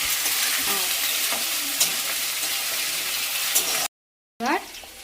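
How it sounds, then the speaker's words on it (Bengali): Loud continuous sizzling of taro leaf greens frying in a pan, with the scrape and rustle of stirring; a short cut of silence near the end before frying resumes. "এবার একটু নাড়াচাড়া করবে একটু সঙ্গে ভাজা হবে"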